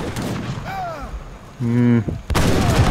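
Cannon and musket fire from an Age of Empires III battle, a few sharp booms and crackling shots in a busy mix with a sustained tonal game sound in the middle and a loud burst near the end.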